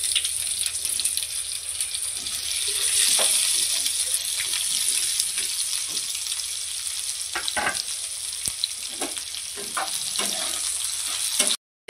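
Onion, tomato, garlic cloves and a piece of ginger sauté in hot oil for matar paneer, giving a loud, continuous sizzle with occasional stirring clatters and no voices, ending abruptly.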